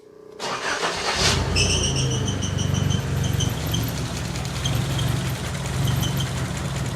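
A Nissan 200SX engine idles roughly on a faulty ignition coil setup after cranking over, a loud, steady but uneven low rumble with a faint high whine running throughout.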